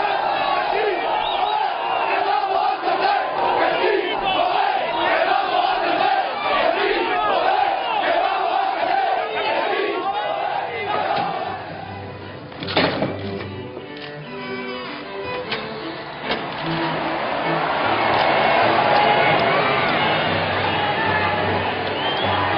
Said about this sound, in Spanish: ahí está el ambiente que se vivía a las puertas del nuevo Alcázar